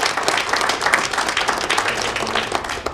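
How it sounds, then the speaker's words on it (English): Dense audience applause at an award ceremony, a sustained crowd of many hands clapping loudly and evenly for the whole stretch, with no voices over it. "a thunderous round of applause for all our guests"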